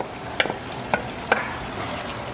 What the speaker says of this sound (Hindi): अब इनको टमाटर के साथ भूनेंगे